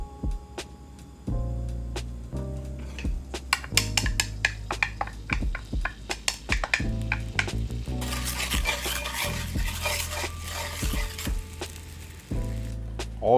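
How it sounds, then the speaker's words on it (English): Sauce thickened with cornstarch slurry goes into a hot pan for crispy Asian beef, sizzling underneath while a utensil stirs and clanks against the pan in quick irregular scrapes and taps, close up and with no talking. "All right, so into my pan with my sauce."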